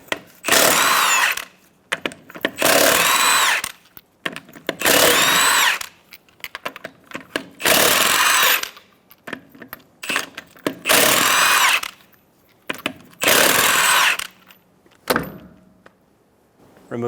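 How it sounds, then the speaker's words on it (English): Impact power tool with a 22mm socket spinning off the six rear-wheel lug nuts on a 2014-2018 Chevrolet Silverado 1500: six loud whirring bursts about a second long each, separated by short pauses with clinks between them. "Using a 22mm socket, remove the 6 lug nuts."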